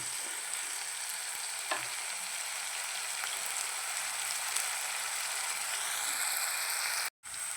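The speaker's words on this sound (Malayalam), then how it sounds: "ഉപ്പും കൂടി ചേർത്ത് അതൊന്ന് ഇളക്കി കൊടുക്കാം" A soursop curry mixture with salt sizzles steadily in a pan as it is stirred, giving a continuous frying hiss with occasional faint scrapes, then a brief sudden cut near the end.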